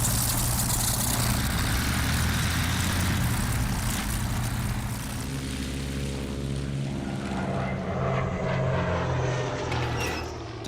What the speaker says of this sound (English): These planes are the world's first strategic bombers.